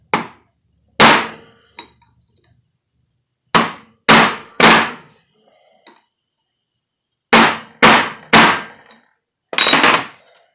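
A hammer strikes a punch to seat a CV head yoke, giving eight or nine sharp metallic blows in small clusters. Each blow is loud and close, with short silent gaps between the groups.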